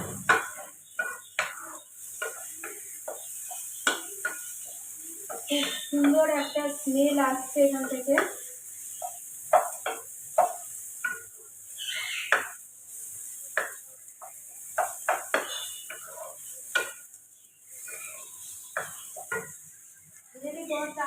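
Boiled potatoes frying in sunflower oil in a wok, with soft intermittent sizzling and the clatter and scrape of a spatula against the pan, close by, as someone speaks occasionally.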